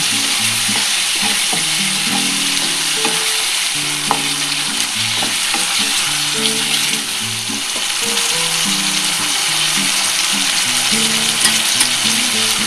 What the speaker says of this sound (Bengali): আমি এই পনিরটা ভেজে রেখেছিলাম এটা দিয়ে দিচ্ছি